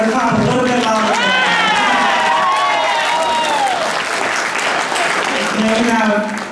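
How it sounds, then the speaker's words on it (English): An audience claps loudly throughout a college event, with a few cheers mixed in, while a voice speaks over the applause for much of its length. "So you guys better clap a little bit louder"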